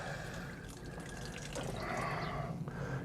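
Water pours from a can onto compost in garden plant pots, a quiet steady trickle and splash that swells slightly toward the end, with no voices.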